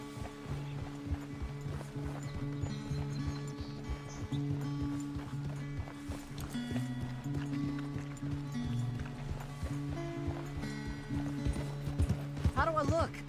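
Horse hooves clip-clopping at a steady gallop in Red Dead Redemption 2, a continuous rhythmic beat running under a game soundtrack, with a brief whinny near the end.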